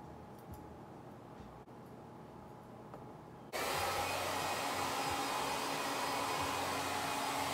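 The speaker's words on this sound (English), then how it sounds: "here I started off doing the ball line, and I did do it with my clipper" An electric hair clipper cuts a child's hair for a crop top mid fade, a steady buzzing hum that starts faint and jumps to a loud, close, continuous drone halfway through.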